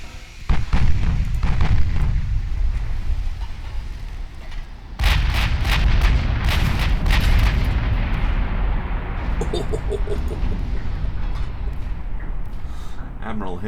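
A naval artillery salvo booms in the Ultimate Admiral Dreadnoughts warship battle game, heavy low rumbling blasts and a sharp burst of impacts over continuous battle noise, with a player talking over it.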